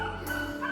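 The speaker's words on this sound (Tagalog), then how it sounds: "kasi yan yung aso" A dog yips and barks once in a quick, sharp burst, fairly close and loud over a steady background hum.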